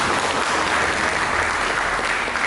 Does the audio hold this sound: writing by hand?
no